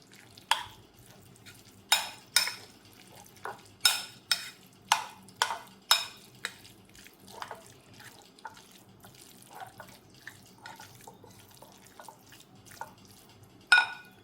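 Chicken pieces being stirred with mayonnaise and mustard sauce in a bowl for a sandwich: a run of sharp, close scraping and clinking strokes, loudest and most regular early on and fading to softer, sparser touches.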